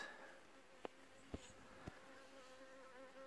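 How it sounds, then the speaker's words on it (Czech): A wasp flies around an apiary with overwintering honeybee colonies, its faint, wavering buzz drifting near and away, with a few soft taps. "Tady nám lítá vosa, nebo co to je?"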